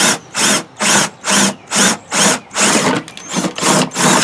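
A drill whirs in about nine short, evenly spaced bursts, each a rasping grind into a plastic gas can, close and loud.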